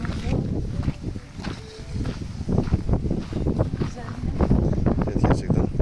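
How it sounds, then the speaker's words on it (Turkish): Strong gusting wind outdoors in Greece buffeting the microphone in irregular bursts, with a voice speaking over it. "inanılmaz bir rüzgar var"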